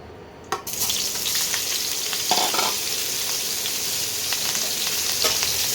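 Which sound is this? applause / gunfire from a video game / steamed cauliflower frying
steamed cauliflower frying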